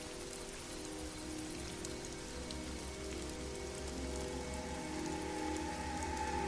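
Steady rain falls in Black Mirror III, a continuous hiss of drops pattering on surfaces near a church and graveyard, loud and unbroken with no voices over it.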